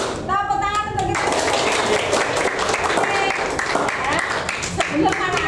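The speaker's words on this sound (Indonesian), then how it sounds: "Tepuk tangan untuk kita." An Indonesian class of children applauds together, a lively patter of clapping with thumps and shuffling, while voices call out over it.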